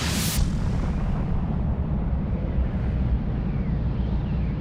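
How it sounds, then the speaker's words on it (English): A science-documentary sound effect for a supernova opens with a sharp, loud blast and then settles into a deep, continuous roaring rumble that holds steady for several seconds. "While we see the outward explosion as a supernova, this masks the implosion going on inside."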